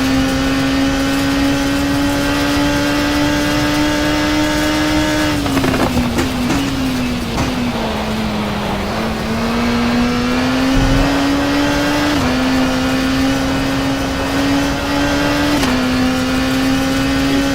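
A race car engine in the WTCC racing video game holding a steady high drone down the main straight, with brief pitch drops at gear shifts before climbing again, loud and continuous throughout.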